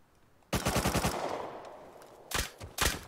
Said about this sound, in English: the nail gun can be shot almost immediately after switching to it